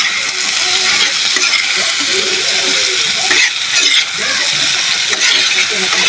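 Chopped tomatoes go into onions already frying in hot oil in a pan. A loud, steady sizzle runs throughout, with stirring and scraping and a few bubbling pops.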